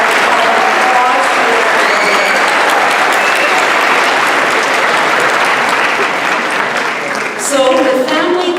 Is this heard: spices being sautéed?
no